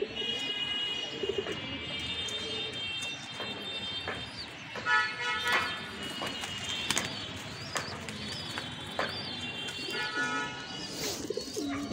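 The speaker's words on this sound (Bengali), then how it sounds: "দর্শক, ধরে ফেলছি অলরেডি আমার সেই কবুতর" A pigeon coos softly in short, repeated calls as it is caught and handled after returning home, with other birds chirping and tonal sounds in the background and no talk.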